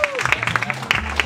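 Audience applause at a live Italian stage show, a steady patter of clapping that fills the room at close range with crowd noise behind it.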